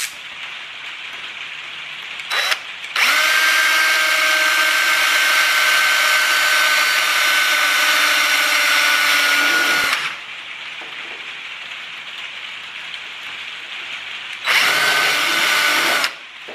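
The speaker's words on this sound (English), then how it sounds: "We need another hole at the front for the rubber band to go in." A power drill runs steadily for about seven seconds, boring a hole at the front of a popcorn tub rubber band car, with a short burst before and another brief burst near the end, loud and close.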